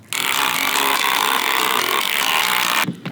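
A power screwdriver drives a screw into wooden decking with one loud, close, continuous motor whine of almost three seconds. It stops abruptly.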